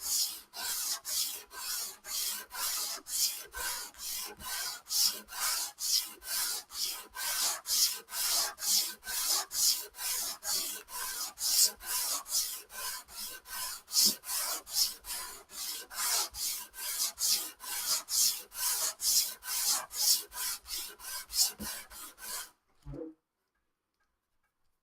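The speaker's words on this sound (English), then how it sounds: "sometimes when you're sanding or doing sanding work, you just need a fresh sheet of sandpaper" Sandpaper is rubbed steadily along the fretboard of a vintage classical guitar in even back-and-forth strokes, a close, rhythmic scratchy rasp that keeps going for over twenty seconds before stopping abruptly.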